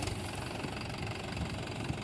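A tractor engine runs steadily nearby, a dense, loud knocking rumble at idle with constant vibration and no pause, alone without voices.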